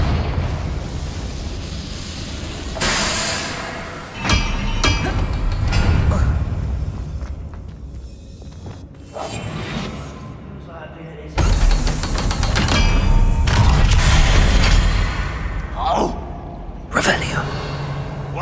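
Confringo spell blasts in the Hogwarts Legacy video game: a few heavy, rumbling explosions spaced several seconds apart, each loud and broadband, rising over a steady bed of game noise and mechanical clatter, with a voice talking in between.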